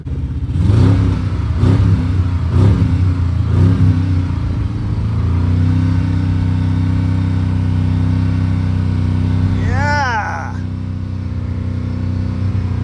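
A Hemi-engined car revs hard in several rhythmic bursts, then settles into a rumbling idle with a brief whine later; someone shouts and talks over it.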